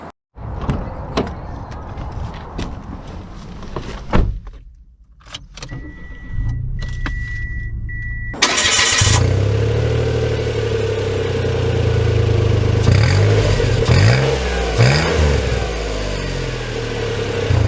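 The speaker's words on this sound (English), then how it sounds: "So setting off here in the Mirage" A 2022 Mitsubishi Mirage ES starts moving and accelerates. Light clicks and cabin handling noises come first, then a steady engine drone rises as the small car gets under way, and the engine note climbs and dips through gear changes.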